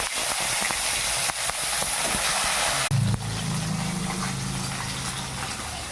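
Parshe fish frying in hot oil in a wok: a loud, steady sizzling hiss close up that flares briefly partway through, then settles into a continuous crackle with a low bubbling undertone.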